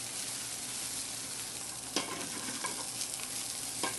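Vegetables sautéing in a hot pan send up a dense, even sizzle with a few distinct clacks of a utensil stirring, close and steady throughout with no talking.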